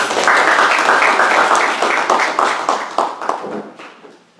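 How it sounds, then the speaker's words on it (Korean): A church congregation claps in a dense burst of applause that starts strong, then thins out and fades away over a few seconds. "박수로 한번 축복해 주시면 감사하겠습니다."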